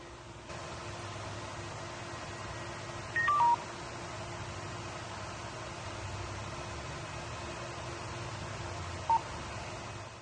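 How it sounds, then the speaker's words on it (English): A Motorola remote speaker mic on a fire department radio sounds a short descending three-note beep sequence as Bluetooth switches off, faint over steady hiss, followed later by one brief single beep. "You heard the descending tones there."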